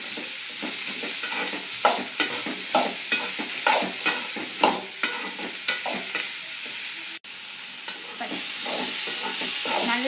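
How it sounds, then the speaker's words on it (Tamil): Onions and tomatoes are sautéed in a pan for a lentil chutney, with a continuous close sizzle broken by regular scrapes and knocks of the spatula against the pan. "இதை இப்போ நல்லா வதக்கணுங்க. வெங்காயம் நல்லா பொன்னிறமாக மாறுற அளவுக்கு நல்லா வதக்கி கொண்டே இருக்கணும்"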